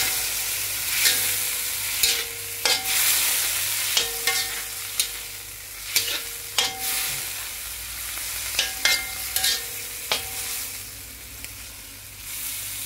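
Pancit noodles sizzle in a hot pan after soy sauce goes in, a spatula clacking and scraping in spaced bursts of tossing over a constant frying hiss, nearby and without voices.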